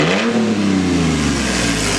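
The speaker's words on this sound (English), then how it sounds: "Give us a couple revs." A loud, throaty straight-piped Toyota Tacoma pickup engine revs up and holds a rough, rumbling idle, sounding close and unmuffled, with no one talking.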